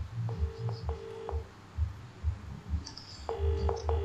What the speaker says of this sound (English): I think I'll phone my friend, Danny.